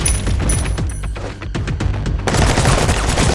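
Loud, dense bursts of rapid gunfire crackle and boom through a movie shootout, with volleys overlapping almost continuously and barely a pause.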